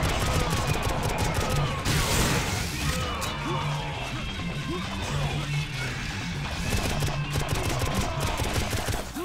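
The player's gun fires in the shooter game Painkiller as dense, rapid bursts that run almost nonstop, with sharp crashes and impacts layered over a loud, busy game soundscape.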